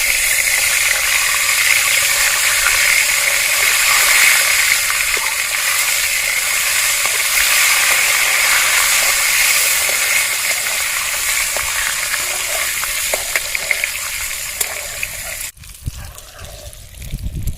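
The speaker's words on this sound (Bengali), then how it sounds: "তেল গরম হয়ে গেছে এবার আমি ডিমটা ভেজে নেবো" An egg frying in hot oil in a home kitchen, seasoned with salt and turmeric, gives a loud, dense, continuous sizzle that cuts off sharply near the end, leaving quieter clatter.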